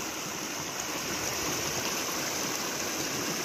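A stream flows through a Kenyan village, producing a continuous, even rush of running water, close and steady throughout with no voices.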